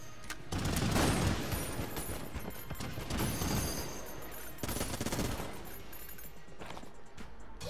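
Rapid, sustained Gatling gun fire in the Enter the Gungeon video game, loud dense bursts of gunfire with brief gaps and crashing impacts running throughout.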